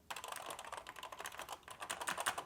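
Mechanical keys on an X68000 computer keyboard typed in a steady, fast run of crisp clacks, close and alone with no talking.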